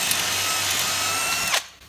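A power drill whirs loudly and steadily while boring a hole in a marking gauge, then cuts off sharply near the end, with no talk.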